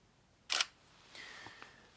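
A single-lens reflex camera fires its shutter once, a sharp close click followed by a soft whirring mechanical hum as it resets, with a couple of faint ticks in a quiet room.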